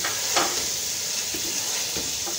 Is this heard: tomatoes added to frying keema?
yes